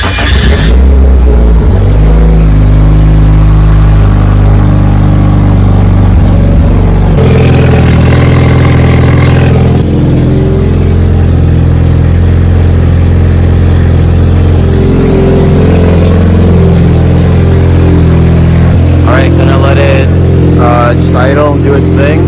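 A warming engine idles loudly with a steady low rumble, rising in a few revving surges, the sound continuing throughout at close range.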